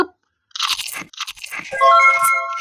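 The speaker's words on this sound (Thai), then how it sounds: "สุดท้ายก็พาหนอนตัวสีชมพู ไปกินโอเลโอสีชมพู" A cartoon-style sound effect of a worm crunching a pink Oreo cookie: loud, close crisp crunches in quick succession that end in a bright, squeaky chewing flourish, with no voice over it.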